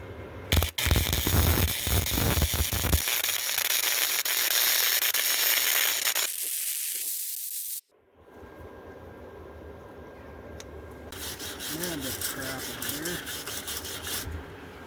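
Welding on a Harley Softail motorcycle part straight through the paint: a loud, steady crackling arc hiss that lasts several seconds and then cuts off, followed by quieter shop noise.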